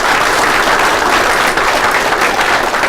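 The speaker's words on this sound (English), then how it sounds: "If you give him a big round of applause." Loud, full applause from an audience at a swearing-in ceremony, a continuous dense patter of many hands clapping close by with no talk over it.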